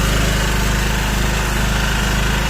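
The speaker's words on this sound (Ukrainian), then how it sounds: "Так, завели ми генератор." A generator engine running steadily just after being started, a loud, close, even droning chug with a rapid low pulse and no pauses or talk.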